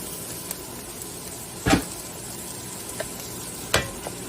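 Chopped onion tipped back into a hot pan for Indian-style chicken curry, a short loud sizzling burst with a couple of lighter clatters after, over a quiet steady kitchen hiss.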